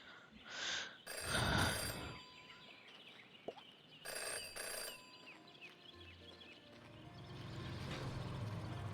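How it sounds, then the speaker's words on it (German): A telephone bell rings in repeated short bursts, separated by quiet gaps with faint ambient sounds, inside the detective adventure video game Jenny LeClue. "Und ignorieren das klingelnde Telefon"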